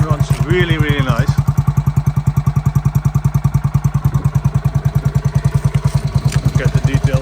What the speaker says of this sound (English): Engine runs really, really nice.